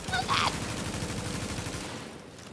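Rapid automatic gunfire in The Division, a loud steady stream of shots running for a couple of seconds with a brief electronic chirp near the start, fading at the end.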